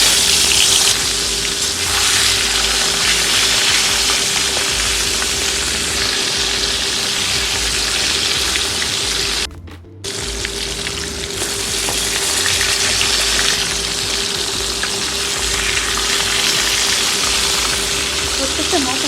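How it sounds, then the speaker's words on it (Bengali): Hilsa fish deep-frying in hot mustard oil, a steady loud sizzle filling the whole stretch with a brief dip near the middle, close and continuous. "ডুবো তেলে আমি ভেজে নেব"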